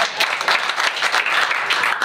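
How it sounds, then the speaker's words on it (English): Audience clapping at the end of a university seminar lecture, a brief, full round of many hands applauding steadily for about two seconds, bright and close with no voices on top. "Clap again."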